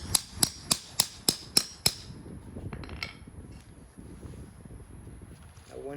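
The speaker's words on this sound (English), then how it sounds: "Set the punch on top, hit it with a hammer." Seven sharp metallic hammer strikes in a steady rhythm, close by, followed by quiet rustling and handling noise.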